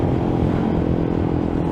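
Suzuki GSX 150 motorcycle with a brong racing exhaust, a steady close low engine rumble that holds at an even loudness throughout without clear revving.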